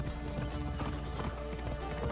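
Horse hooves in Assassin's Creed Odyssey, a steady clip-clop gallop of a ridden horse, close and even, running without pause under faint background game sound.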